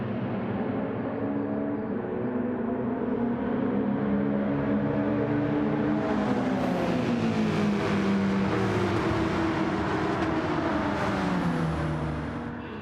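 Race cars roar through a race in a racing video game, the Deep Forest track from Gran Turismo, with a steady, loud engine drone that climbs in pitch as the cars accelerate, heard alone without talk.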